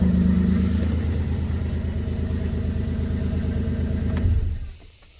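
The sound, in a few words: 2000 Ford Ranger truck engine idling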